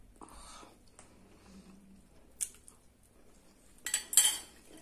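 A spoon stirring a pot of ravioli makes a few close metallic scrapes and clinks, quiet at first, then a louder cluster of knocks against the pot near the end, with no speech.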